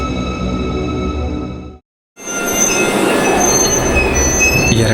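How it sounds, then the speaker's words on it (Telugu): A train rolls along with a dense, steady rumble and high wheel squeal, cuts to near silence for a moment, then resumes just as loud and close with metallic screeching on top. "ఫైనల్లీ ఆ ట్రైన్ ఆగింది"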